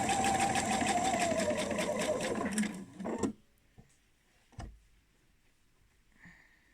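A sewing machine runs in a steady rapid stitching burst through fabric and batting for a bowl cosy, then stops abruptly, leaving a few faint handling clicks and a soft thump in near silence.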